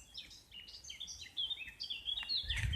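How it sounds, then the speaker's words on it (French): Birds sing outdoors in a quick string of faint high chirps and trills that carry on steadily throughout, with no one speaking. "Je suis en train d'écouter les oiseaux en même temps"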